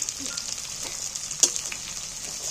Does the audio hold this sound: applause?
no